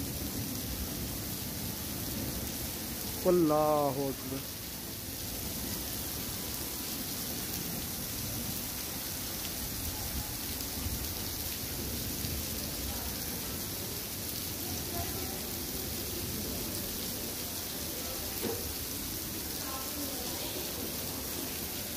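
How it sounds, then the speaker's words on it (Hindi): Heavy rain pours steadily as a dense, even hiss, with a brief voice near the start and a faint rumble later. "दूसरी तरफ जो है वो ज़ोरों से बारिश स्टार्ट हो गई है"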